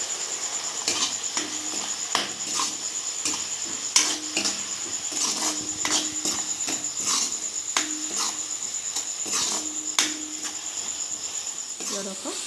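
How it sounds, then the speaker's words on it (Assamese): Onions fry in a pan with turmeric and salt for an Assamese-style chicken dish with tora, steady sizzling under repeated scraping, clattering stirs of a spoon against the pan. "2 মিনিটমান এনেকৈ লৰাই থাকিব লাগিব।"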